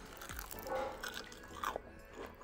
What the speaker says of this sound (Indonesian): Jadi ketika kita gigit, crispy, kriuk.